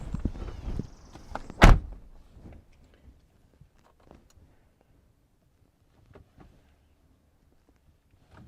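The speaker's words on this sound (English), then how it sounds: "I'll have to close the door." A car door shuts on a 2012 Nissan Altima with one sharp, solid thunk, close by, after some rustling and fumbling. Quiet follows, with a few faint clicks and taps.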